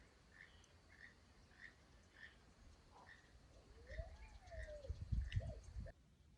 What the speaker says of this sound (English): can hear the croaking sound. Sounds a bit like a frog. That's what the noise toucans make.